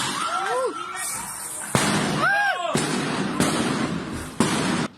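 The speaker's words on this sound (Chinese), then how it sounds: "缅甸仰光的街道传出枪炮声" Gunfire and artillery blasts echo through the streets of Yangon, Myanmar, a handful of sharp, loud bursts spaced a second or so apart, each ringing out with a long tail, while voices are heard over them.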